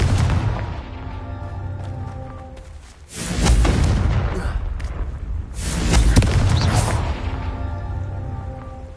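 Two loud, booming blasts from the Confringo explosion spell in Hogwarts Legacy, each a broad roaring burst that swells and rumbles for about two seconds over continuous game background sound.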